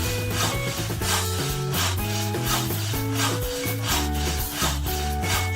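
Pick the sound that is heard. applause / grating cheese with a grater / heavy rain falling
grating cheese with a grater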